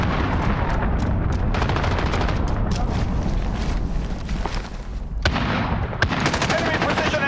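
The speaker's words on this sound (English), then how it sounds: "Enemy precision airstrike. Take cover." Loud video game combat with dense, continuous gunfire and booming precision airstrike explosions, with sharp blasts standing out near the end over a constant roar.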